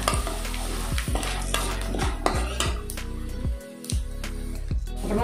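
Peanuts fry in oil with asafoetida while a utensil scrapes and clinks against the pan in a quick steady rhythm over a constant sizzle, close and loud, with one brief pause near the end.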